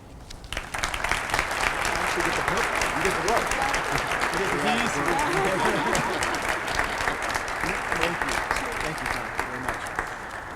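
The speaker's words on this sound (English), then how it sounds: "Keep your clapping going for Tom and Marilee and entire executive leadership team" Sustained, dense applause fills a large hall after a presentation by an executive leadership team, steady and loud for several seconds while a voice speaks over the crowd.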